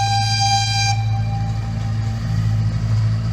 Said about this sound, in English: So the train's about to come through the tunnel.